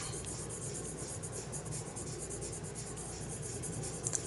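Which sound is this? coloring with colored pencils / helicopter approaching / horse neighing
coloring with colored pencils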